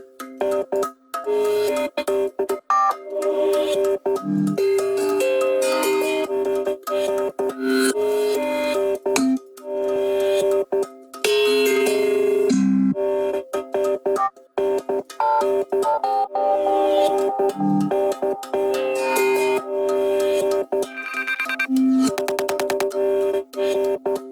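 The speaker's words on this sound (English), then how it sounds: "the tongue drum group, and that just sounds like this." A tongue drum percussion group plays a busy pattern of bright, bell-like struck tones with quick rhythmic hits and short gaps, steady and fairly loud, with no one talking.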